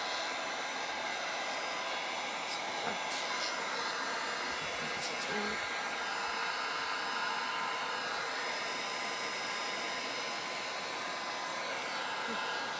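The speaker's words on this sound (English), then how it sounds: "now I'm just gonna take my heat gun." Heat gun blowing steadily while drying paint on a fall-themed wooden riser, a loud continuous airy roar with a constant whine, running unbroken for the whole stretch.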